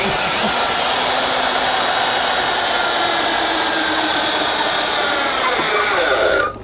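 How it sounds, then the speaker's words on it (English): A loud, steady high-pitched motor whine runs continuously for several seconds, then cuts off abruptly at the end, like a power drill spinning. "I got a drill in my hand"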